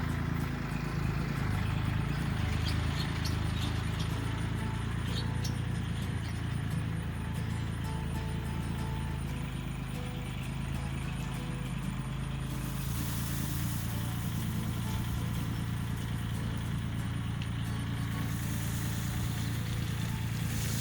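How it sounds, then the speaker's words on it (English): A tractor spreading crushed rock on a narrow drive, its engine droning steadily and loud throughout with rattling and scraping of gravel, no voices. "he's just going to spread it with the tractor"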